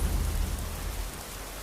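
Rain falls steadily in the Skyrim video game, a soft, even hiss with a low rumble underneath, quiet and brief with no voices.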